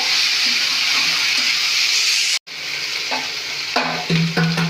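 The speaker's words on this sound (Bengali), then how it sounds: "মশলাগুলো খুব ভালো করে কষাতে হবে" Katla fish and a paste of ginger, garlic, cumin, turmeric and chilli sizzle and fry steadily in a pan, loud and continuous, with a brief break and then scraping and stirring clatters near the end.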